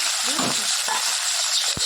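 Fish rubbed with turmeric and salt hits hot oil, giving a loud, steady, close hiss and sizzle with faint scraping, and no voices over it.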